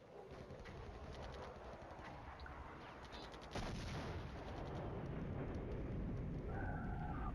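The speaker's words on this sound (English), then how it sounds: "Arty's kicking in, starting to shell these guys." Artillery shelling in the war game Flashpoint Campaigns: Red Storm makes a dense, continuous rumble of gunfire and explosions that swells louder midway and stays heavy.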